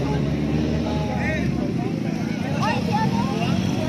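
A motorcycle speeds along a mountain road, its engine a continuous droning hum heard from the rider's position while people talk over it throughout.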